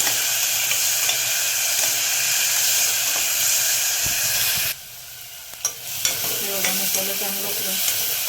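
Vegetables for traditional Bhogichi bhaji frying in oil in a pan over a high gas flame, a loud continuous sizzle that drops away briefly mid-clip before stirring clatter and sizzling resume, close with no talk.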